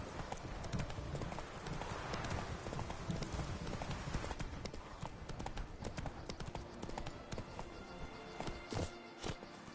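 Hooves of Roach, a horse in The Witcher 3, clip-clop in a steady walking rhythm over ambient game noise, close and continuous with no talk.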